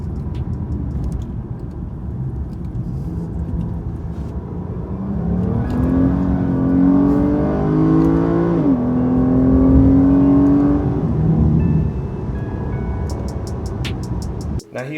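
Tuned Chrysler 3.6L Pentastar V6 in sport mode pulling hard at full throttle, engine note climbing through revs, dipping at a shift, then rising again before backing off, heard from inside the car.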